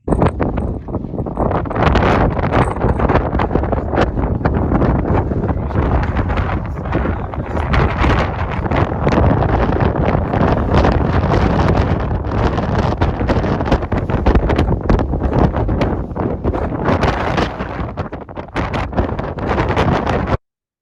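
Strong mountain wind on Mount Spalding on a Colorado fourteener roars and buffets the microphone for about twenty seconds, loud and continuous with surging gusts.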